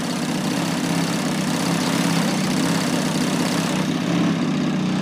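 A GP61 model aircraft engine fitted with an ES composite tuned pipe idles steadily and loudly close by, a continuous buzzing drone with a fine vibration and no talk over it.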